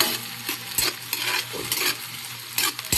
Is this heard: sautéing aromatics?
yes